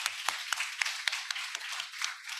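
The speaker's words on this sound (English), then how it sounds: "let's give a very warm round of applause to the panelists." A small audience claps for conference panelists, scattered individual hand claps close by in an irregular, fairly sparse patter.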